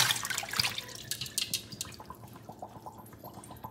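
Water drains and splashes through a colander as soaked Irish sea moss is poured off, a broad rush at first that thins into scattered drips and small splatters.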